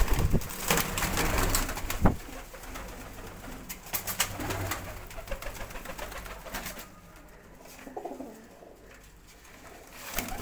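High flying pigeons coo repeatedly in soft, rolling calls, close by and fairly steady, with some rustling and shuffling mixed in and a quieter stretch near the end.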